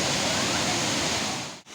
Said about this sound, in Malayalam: ആ വെള്ളച്ചാട്ടത്തിൽ നിന്നുള്ള വെള്ളം